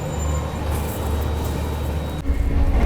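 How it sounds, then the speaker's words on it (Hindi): A Shatabdi Express train rolls on a main line while overtaking a local train on a parallel track, giving a steady low rumble of wheels and carriage noise with a heavier surge near the end. "ये देखो भाई साहब 3rd लाइन पे अभी लोकल ट्रेन चल रही है, लोकल ट्रेन को पैरेलल ओवरटेक मार रही है अपनी शताब्दी एक्सप्रेस।"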